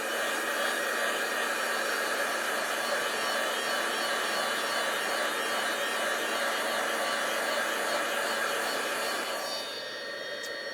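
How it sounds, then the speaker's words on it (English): A heat embossing tool for a stamped dandelion card blows a loud, continuous whirring rush close by with a steady hum, running alone for about ten seconds before the tone shifts slightly at the end. "I'm going to put my heat tool on"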